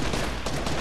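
Rapid gunfire in a shooting video game, a dense burst of shots with no gaps, loud and close throughout a brief moment.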